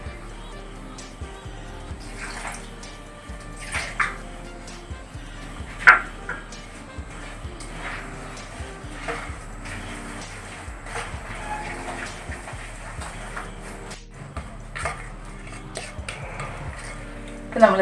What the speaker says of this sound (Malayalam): പാല് ഒഴിച്ച് നമുക്ക് നന്നായിട്ടൊന്ന് മിക്സ് ചെയ്യാം